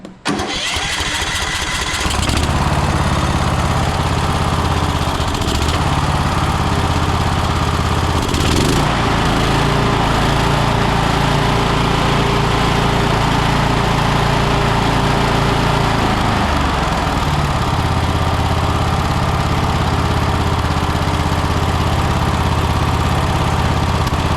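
A Troy-Bilt lawn mower engine fitted with its original factory carburetor starts after a brief crank and runs loud and close, holding a steady rough idle with a couple of short dips in speed.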